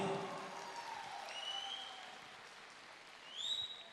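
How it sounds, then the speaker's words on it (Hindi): An audience at a corporate motivational event claps for a company CEO, giving a steady, fairly soft wash of applause that swells slightly near the end, with a few faint whistles over it. "एक बार जोरदार तालियां"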